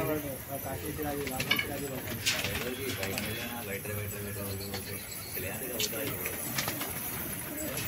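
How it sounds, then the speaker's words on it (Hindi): Pigeons at a fancier's loft in Hyderabad coo in repeated soft throaty rolls, with occasional wing flutters as birds settle, under a busy background of nearby people talking. "फाइनली ये कबूतर बैठ गया"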